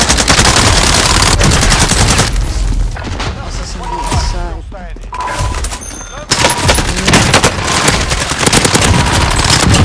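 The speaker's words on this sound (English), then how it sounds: "Taking fire over here." Rapid automatic gunfire and booming shots in the video game Call of Duty Warzone, loud and dense at the start and end with a quieter lull in between, while players talk over the action.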